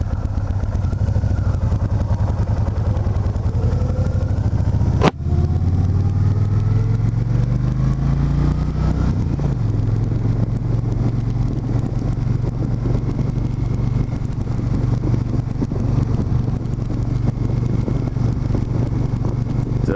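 A carbureted cruiser motorcycle engine idles steadily and continuously at close range, a low, even rumble with one sharp knock partway through and no talking.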